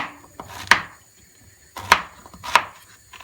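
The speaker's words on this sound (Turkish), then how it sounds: "Kerevizleri istediğiniz büyüklükte doğrayabilirsiniz. Ee, şöyle yarım ay şeklinde doğrayacağım ben." Three sharp knife chops slicing celery into half-moons on a cutting board, spaced unevenly, close and crisp in a quiet room.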